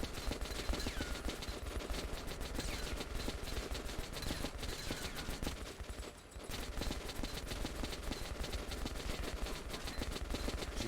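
Dense, rapid gunfire from the video game Metro Last Light, sustained automatic bursts with only a short dip midway, loud and continuous.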